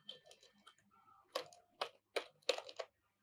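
Keys tapped on a computer keyboard in a few short bursts, quiet and close, with light clicks spaced unevenly over a few seconds.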